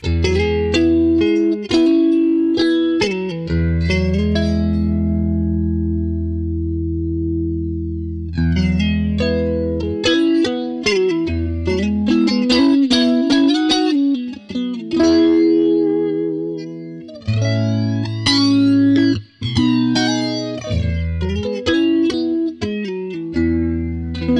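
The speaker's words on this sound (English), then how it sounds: "we've got the electric flanger, which is obviously like an electric mistress" Electric flanger effect modeled on an Electric Mistress, played on electric guitar through AmpliTube 5 software: sustained chords and single notes with a sweeping, swirling modulation, steady and fairly loud, with no voice.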